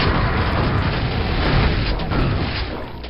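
Rocket launcher explosion in Quake: a heavy, sustained booming blast rolling at close range and full loudness for about three seconds before easing slightly at the end.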